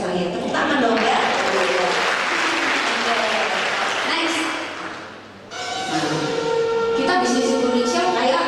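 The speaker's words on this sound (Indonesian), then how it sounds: "tepuk tangan dong ya" Sustained applause from an audience at an Indonesian business seminar, dense and steady for several seconds, dipping briefly before resuming, with a voice and tonal sounds running over it.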